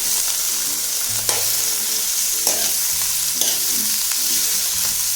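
White cabbage with garlic, ginger and chopped chilies stir-fries in a wok, a continuous loud sizzle broken by a few sharp stirring scrapes and clatters, with no voices.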